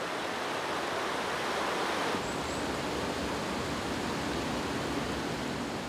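Continuous rushing water of a clear mountain stream, a steady broadband wash, fairly close and unbroken throughout.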